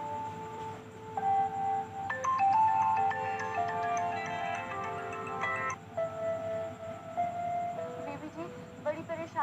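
A phone ringtone playing a tonal melodic pattern with short repeating notes, moderately loud over a quiet room, with some voices murmuring faintly.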